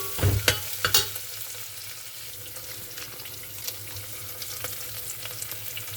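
Soaked rice frying on a medium flame for ghee rice, a soft steady sizzle with a few sharp stirring clinks and scrapes near the start, then a quieter continuous hiss.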